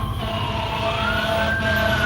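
A fire engine siren wails steadily over a loud, rumbling street background, its rising and falling tone sustained throughout with no one speaking.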